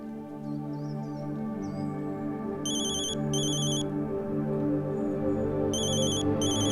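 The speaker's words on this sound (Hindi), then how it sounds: "वो प्रिया जी का फोन है।" A mobile phone ringtone sounds in two short electronic bursts over a steady background of music and hum in an indoor drama scene; no one speaks.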